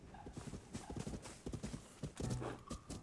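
Horse hooves clip-clop in Zelda: Tears of the Kingdom in a quick, steady rhythm, fairly faint, with a brief snort or whinny mixed in near the end.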